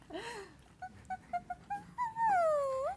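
A person imitates a dog, giving a string of short, high yips that build into a long, wavering whine.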